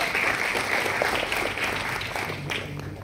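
Steady audience applause fills the room at an environmental exhibition on bamboo, dense and continuous clapping at even loudness throughout, with no voices standing out.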